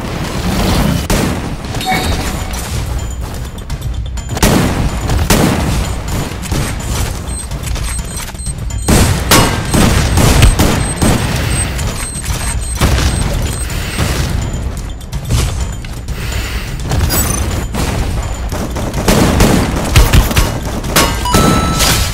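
Shotgun blasts ring out in a shooter video game, with heavy booms and thuds packed into dense, nearly continuous bursts of loud gunfire. A voice comes through faintly underneath the action.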